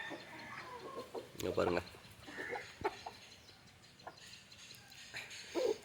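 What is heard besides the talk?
country chickens clucking while pecking papaya leaves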